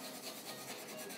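Paper sanding pad rubbed back and forth over a small plastic Gundam model part, a soft steady close-up scratching rasp with no voices.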